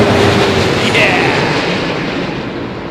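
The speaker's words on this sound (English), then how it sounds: "Vortex. Sounds like a freight train." Wake vortex from a Delta Airbus A330neo at London Heathrow rolls past as a deep, broad rumbling roar like a freight train. It swells and then slowly fades.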